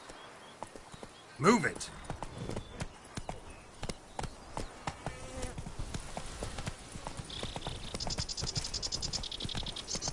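Roach the horse galloping in The Witcher 3 Blood and Wine, rapid rhythmic hoofbeats close by, with a voice shouting briefly near the start and ambient game sounds behind.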